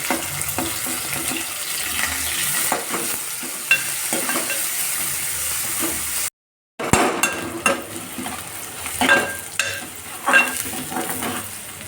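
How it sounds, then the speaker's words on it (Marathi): Onions frying in very hot oil in a home kitchen, a steady close sizzle with stirring clatter and scraping throughout, briefly cut to silence midway before the sizzling resumes. "तेल जास्तच तापलंय, त्यात कांदे टाकून घेऊया"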